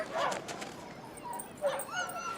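Arctic sled dogs chained on the outskirts of a village bark and whimper in short, high yelps and whines, with a burst near the start and another after a pause, fairly close over outdoor ambience.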